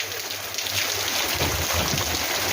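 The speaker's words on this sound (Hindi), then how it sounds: "अभी देखिए कितनी तेज बारिश हो रही है।" Heavy monsoon rain falls in a dense, loud, steady hiss with a low rumbling undertone, continuous and close, with no talking.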